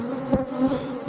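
Honey bees buzzing close by during a routine inspection of hive 3 in Athens: a steady, dense drone with brief swells as insects pass, and no talking.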